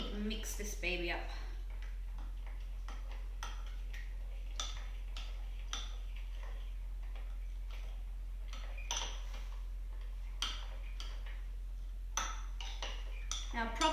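Homemade cough medicine of ginger and honey being mixed, with intermittent sharp clinks and ticks of a utensil against a container, fairly close, over a faint steady background hum.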